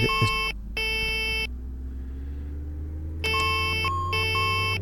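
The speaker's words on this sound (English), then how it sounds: "how the hell do I stop that bloody alarm?" Repeating electronic cockpit alarm tone in bursts in the X-Plane 11 flight simulator's Saab 340, a harsh multi-pitched beep pattern that stops for a couple of seconds and resumes, over a low engine hum.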